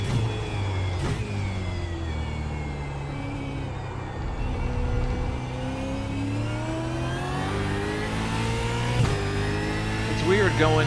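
A Supercars race car in the iRacing sim at Daytona revs and surges as its wheels spin on a slippery track, a steady harmonic engine drone rising and falling, with a commentator talking over it throughout.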